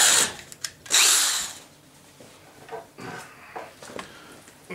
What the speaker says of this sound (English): I'm going to drill out all of the buttonholes.